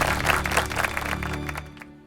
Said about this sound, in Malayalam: എല്ലാവരും വലിയൊരു കൈയടി കൊടുക്കുക